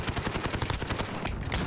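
Gunfire in Call of Duty: Modern Warfare multiplayer, a burst of rapid, evenly spaced shots that is loud and close and goes on for the whole moment.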